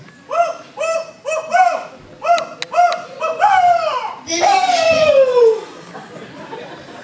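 A human voice imitates an owl hooting, giving a close, loud series of rounded, evenly spaced hoots and then a longer call that slides downward, as a turkey hunter would use on a logging road.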